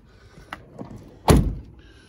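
A Range Rover P38 Holland & Holland rear passenger door is handled, with a couple of light latch clicks followed by a solid, close thunk as the door shuts.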